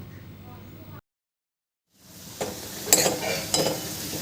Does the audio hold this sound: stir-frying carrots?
yes